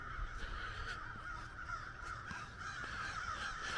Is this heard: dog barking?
no